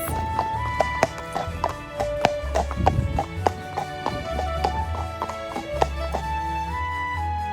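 A horse named Colin cantering, a rapid run of clip-clop hoofbeats in a rolling rhythm, fairly close and clear over a steady background hum.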